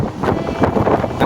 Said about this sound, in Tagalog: Guys, medyo mahangin dito sa labas.